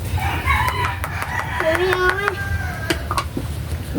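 A rooster crows from a nearby chicken coop, its rising and falling call carried across several seconds over a steady low outdoor hum, with children's voices and chatter in the background.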